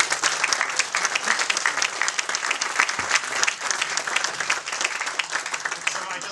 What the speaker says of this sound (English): I think we should give him a round of applause for showing up.